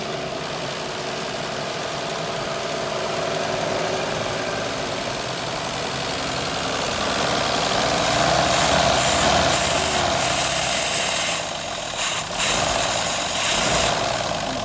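The engine of a Frandee Sno Shu Model E snowcat under restoration runs steadily close by, with an uneven idle that rises in revs and then falters. Its tone is rough and knocking.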